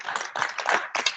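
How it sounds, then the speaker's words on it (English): Clapping for Flint and Genesee County veterans comes as a few short, soft bursts from a small group, with brief gaps between them. "give you guys a round of applause for Flint and Genesee County veterans"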